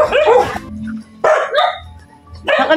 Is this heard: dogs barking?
yes